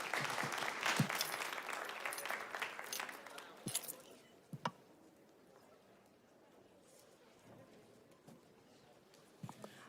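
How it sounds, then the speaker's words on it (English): Applause from a conference audience, loudest in the first four seconds and then thinning to scattered claps over a quiet room. "Another round of applause for Dr. Wesley, please."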